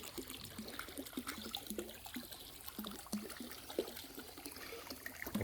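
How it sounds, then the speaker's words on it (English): A garden hose runs water into a swimming pool, making a soft, continuous trickling and splashing with small irregular bubbles and drips, fairly faint and close. "I'll turn the water off and I'll show you how much dirt comes out"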